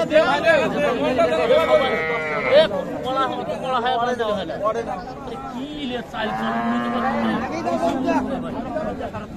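Cattle, including cows and calves, moo loudly and repeatedly, long drawn-out calls mixed with people chattering and bargaining nearby at a busy outdoor livestock market.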